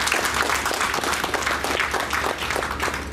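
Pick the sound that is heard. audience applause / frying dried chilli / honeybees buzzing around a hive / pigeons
audience applause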